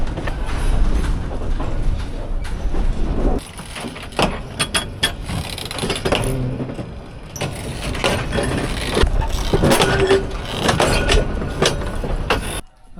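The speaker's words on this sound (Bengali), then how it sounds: "বিনা রুটের বিনা টিকিটের যাত্রী, এই ট্রেন কোনো পথেই যাবে না। শান্টিং করা ট্রেন।" A local passenger train shunting at a station makes loud, close mechanical rumbling with clanks and squeals of wagons and couplings, rising and falling over the whole stretch.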